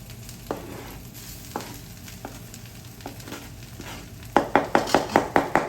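Fresh spinach goes into a hot non-stick pan with spices over low gas: a few soft scattered clicks, then a louder run of rhythmic stirring scrapes and light sizzle close by.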